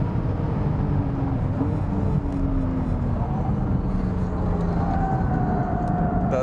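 A Porsche 718 Cayman GTS 4.0 with 400 PS brakes hard from fifth gear on the Estoril race track, giving a loud, steady roar of engine and road noise that stays dense throughout, with pitch shifting as speed drops.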